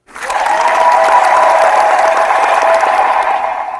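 Steady, dense applause from a crowd, rising quickly and holding loud throughout with no voices standing out.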